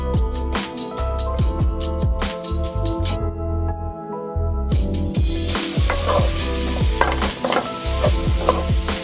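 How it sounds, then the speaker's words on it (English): Onions and peppers fry and sizzle in a pan during one-pot meal prep. A spoon stirs them in repeated scraping strokes over a steady hiss, and the sound is close and prominent with no talking. "Okay, so they've been frying for about 5 minutes."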